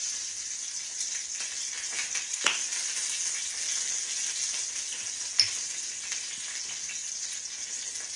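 Soup ingredients for a chicken vegetable soup sizzle gently in a pot, a soft steady hiss broken by a couple of sharp clinks of a utensil stirring against the side.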